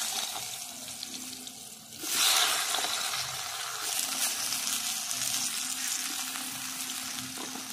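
Potatoes drop into hot oil with black cumin for a village-style fish curry. A sudden loud sizzle bursts up, then settles into a steady, crackling fry that holds at close range.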